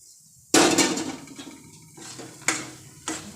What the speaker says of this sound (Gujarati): હવે તેમાં ભૂકો હતો એ મિક્સ કરવાનો છે.